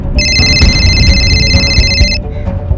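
A telephone rings with a steady, bright electronic trill for about two seconds, loud and close over a low background hum, then cuts off abruptly.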